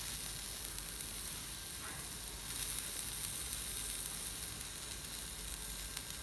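Pieces of lahm bi ajeen, meat on dough, in a very hot pan: a steady, faint crackling sizzle that continues evenly throughout with no talking.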